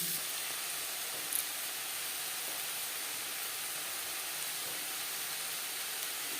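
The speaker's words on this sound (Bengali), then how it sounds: "মাছ ভেজে নেওয়া তেলে দিয়ে দেব পেঁয়াজ কুচি" Chopped onions sizzle in the oil left from frying pangas fish. A steady, quiet hiss holds evenly throughout, with no talking.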